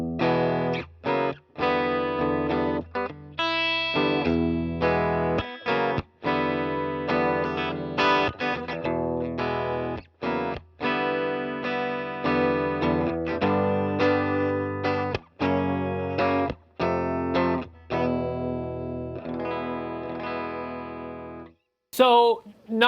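A Fender Telecaster electric guitar runs through a pedal board with a Boss DS-1 distortion and a loop station into an amplifier, playing loud, sustained distorted chords and riffs with short breaks for nearly the whole passage.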